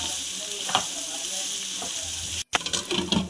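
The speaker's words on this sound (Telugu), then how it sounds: "దాంట్లో మనం ముందుగా కట్ చేసుకున్న వంకాయలను వేసుకొని మొత్తం కలుపుకోయా కలుపుకోవాలి" Cut brinjal pieces being stirred and fried in a pan: a steady sizzle with a few scraping stirs of a spoon, a brief break, then busier stirring and clatter close by.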